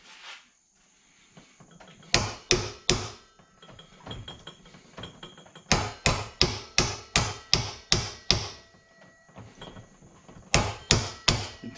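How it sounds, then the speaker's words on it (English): A small hammer taps out a stuck brake caliper glide pin in quick bursts of sharp, ringing metal strikes, several groups of evenly spaced blows separated by short pauses, close up. "Tapping it out, working it back and forth."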